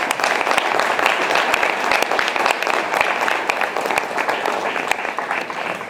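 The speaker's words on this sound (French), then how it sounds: "Donc applaudissez pour l'ambassadeur." Audience applause for the ambassador after a theatre performance, dense and lively clapping from a large crowd, close and sustained with crisp individual claps throughout.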